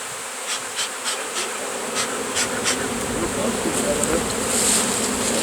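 Bees swarm densely around large beehives being removed, a loud continuous buzzing drone with individual insects zipping close past the microphone, steady and near throughout.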